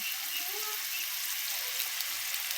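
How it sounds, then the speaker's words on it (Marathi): Mutton masala roasts in a pan with a constant, dense sizzle and hiss, loud and close and holding steady throughout. "चांगला गोळा होईपर्यंत भाजायचं बरं का."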